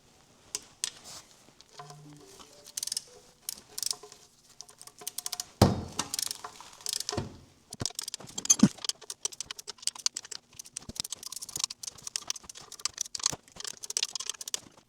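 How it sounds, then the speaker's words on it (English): A wrench torques the transmission pan bolts on a Dodge Caliber to 70 inch-pounds, producing irregular bursts of quick, dry ratcheting clicks and metallic taps with short pauses between bolts. "I'm going to torque down all the pan bolts to 70 inch-pounds as well"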